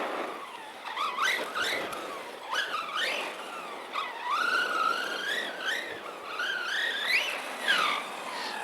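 A Redcat Kaiju RC truck fitted with a sway bar and roof skid runs alone with no talk, its small motor whining and rising and falling in pitch over several passes, with brief tire scrubs between bursts.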